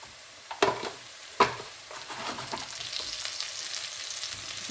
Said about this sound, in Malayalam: ഇനി നമുക്കിതിലോട്ട് കുറച്ച് കറിവേപ്പിലയും